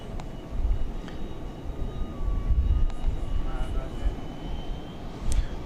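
Arriving at DFW Airport, the airliner on Flight 128 from Shanghai produces a loud, rumbling jet roar that swells and holds. A few faint clicks and higher tones rise above it.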